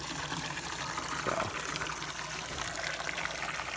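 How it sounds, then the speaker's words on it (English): Water runs from a faucet into a sink at an outdoor fish cleaning table, a steady close splashing trickle and gurgle with no talking. "the sink is filling up"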